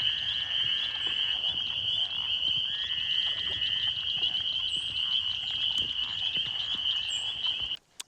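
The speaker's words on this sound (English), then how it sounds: "Listen to those frogs," Frogs croaking near a creek off a fishing spot, a steady high trilling chorus with overlapping calls running continuously, fairly close, ending with a brief knock.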